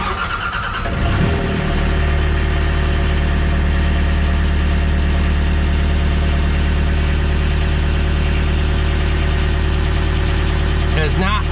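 An excavator engine idles steadily and loudly after a brief start-up burst, a constant close drone throughout.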